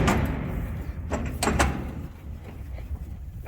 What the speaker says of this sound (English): we'll probably have to shut at least one more of these doors